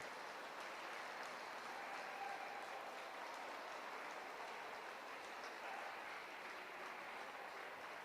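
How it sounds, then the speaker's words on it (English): Steady audience applause fills the ring for toy puppy finalists, a Pug and an English Toy Terrier among them, at the South Wales Kennel Association championship dog show, a continuous even patter of many hands at moderate distance. "Round of applause, please, for these lovely finalists."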